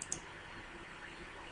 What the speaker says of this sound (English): And of course, I'm clicking more than one time.